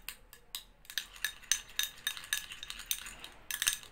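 A spoon stirs oil into Nivea cream in a small bowl, making a steady run of light clinks and scrapes against the bowl, close up and quiet, with no voices.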